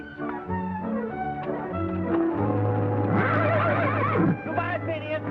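A horse whinnies amid Western-show music and background sounds, with a rising neigh toward the middle and a steady din throughout.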